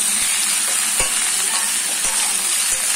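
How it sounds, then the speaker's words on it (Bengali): Mixed vegetables fry in a pan with a steady, bright sizzle that runs throughout, broken by a few soft knocks of stirring, with no talking. "তো এটাকে 5 মিনিট মতন ভেজে নেবে"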